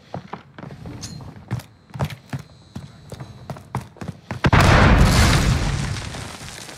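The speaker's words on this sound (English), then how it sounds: "Someone blew up the canister." A canister blows up in a Call of Duty Resurgence match, a heavy booming blast that swells and rumbles for about two seconds near the end, after a run of quick sharp gunfire-like thumps.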